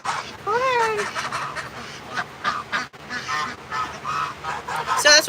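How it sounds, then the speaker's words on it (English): Egyptian geese honk repeatedly in harsh, raspy calls, close and loud, over a noisy outdoor background with overlapping bird sounds. "So that's what we call an Egyptian goose."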